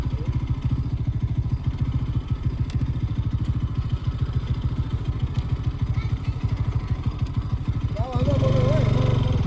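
Motorcycle engine on a rough, rocky road, a close, steady rapid thumping that runs throughout and revs higher near the end, with a voice briefly heard over it.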